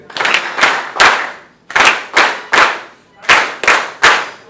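An audience at a Rotary Club installation programme claps in unison to pass a motion, loud, close, rhythmic bursts of hand claps in short groups with brief pauses between.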